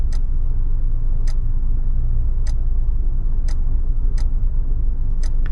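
Six sharp, faint infotainment menu clicks tick at slow, even intervals over a constant low car-cabin rumble in a 2022 Nissan Kicks.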